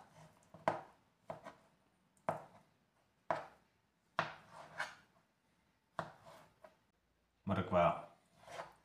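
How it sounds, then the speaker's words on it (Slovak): Peeled potatoes chopped for potato salad, a series of sharp, close knife strikes on a cutting board at irregular intervals, with a quick burst of faster chops near the end. "Zemiaky očistíme,"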